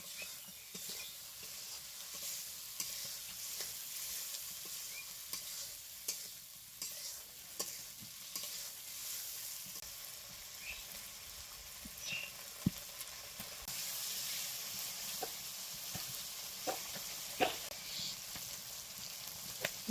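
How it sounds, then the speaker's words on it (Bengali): Spice masala with tomato fries in a pan with a fairly soft, steady sizzle, marked by occasional clicks and scrapes of stirring. "মশলা কষানো হয়ে গেছে"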